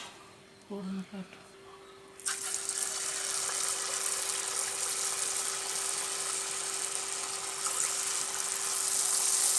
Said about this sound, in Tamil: கிறிஸ்பியாக சவுண்டெல்லாம் நல்லா பயங்கரமாக வருது பாருங்கள்